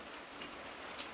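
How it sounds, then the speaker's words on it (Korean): Steady rain falling outdoors in winter at a rural cattle farm, a soft even hiss with a couple of slightly louder drops or ticks, no voices. "비가 오네요."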